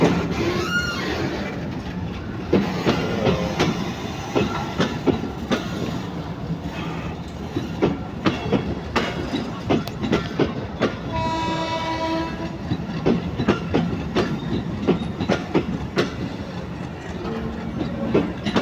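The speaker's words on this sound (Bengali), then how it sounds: "এই যে 2 নাম্বার লাইন থেকে 1 নাম্বার লাইনে ট্রেনটি উঠতেছে।" Train switching from line 2 to line 1, a long run of rhythmic clickety-clack wheel beats over rail joints and points, with a loud horn blast partway through, close and continuous.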